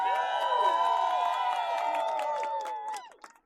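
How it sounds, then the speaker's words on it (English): An outdoor crowd at a medieval fayre fire-breathing show claps and cheers in a sustained round of applause that fades out over the last second, with whoops mixed into the clapping. "effectively a round of applause for being old"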